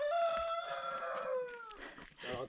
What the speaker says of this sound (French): C'est entendre et voir plein de coqs et de poules.